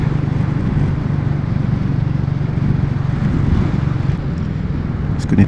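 A Royal Enfield Classic 350 motorcycle rides along Fife roads near Glenfarg, its steady low engine thrum and road rumble continuous and close throughout, with a brief knock near the end.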